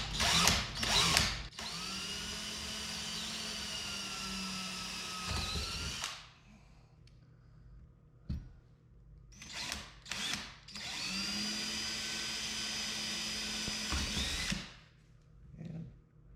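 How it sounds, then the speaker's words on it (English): A power drill bores through the body of an FFR MkIV Roadster. Two long, steady high-pitched whirring runs are separated by short bursts and quiet pauses, close and clear with no talk. "be aware when your drill is going to break through"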